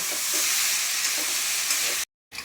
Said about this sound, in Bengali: আর এটা হচ্ছে কুচড়ি ভাজা হচ্ছে।